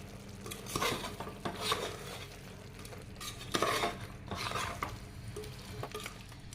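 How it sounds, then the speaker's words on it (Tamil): Chicken biryani with biryani masala, salt, yogurt and pandan leaf is sautéed in a cooker, with repeated spoon scrapes and stirring clatter over a low sizzle in an uneven rhythm, no voices. "அதில் பிரியாணி மசாலா, உப்பு, தயிர், ரம்பா இலை எல்லாத்தையும் ஆட் பண்ணி நல்லா வதக்குங்க."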